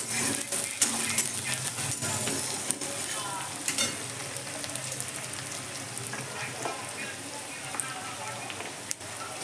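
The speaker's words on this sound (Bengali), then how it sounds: "আমি সবজিটার ওপরেই দিলাম দিয়ে এবার ভেজে নেবো" Vegetables topped with curry leaves fry in oil in a pan, giving a steady, soft crackling sizzle with scattered small pops and clicks throughout.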